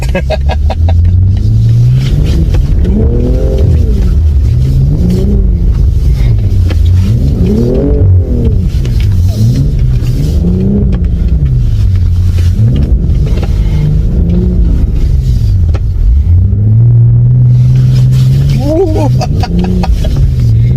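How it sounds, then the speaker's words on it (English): A BMW M240i drifting through snow, its engine revving up and down in repeated swells, loud and close, with the pitch rising and falling in waves and a final higher rev near the end. "this car can start drifting like crazy"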